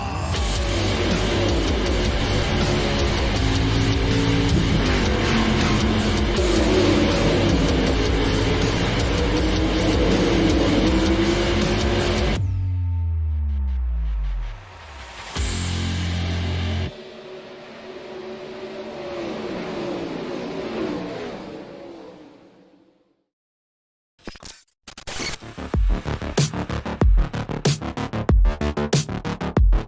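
World of Outlaws sprint cars roar loudly around a dirt track, a dense engine drone that cuts off, then passing revs and fading engine noise, ending with sharp choppy bursts of sound.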